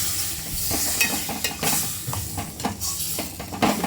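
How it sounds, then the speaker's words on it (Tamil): Chicken pieces stirred into softened onions in a pan for a chicken gravy, a loud, close sizzle and fry broken by repeated scraping stirs and knocks of the spoon against the pan, with no voices. "நம்ம இந்த சிக்கனை எடுத்து இதில் ஆட் பண்ணிக்கலாம். ஆட் பண்ணி நல்லா கிண்டி விட்டுக்கோங்க"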